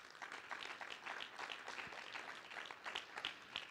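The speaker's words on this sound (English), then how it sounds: "how about a round of applause for them too?" Applause from a panel discussion audience, a dense steady patter of many hands clapping at moderate distance, fairly soft and even throughout with no talk over it.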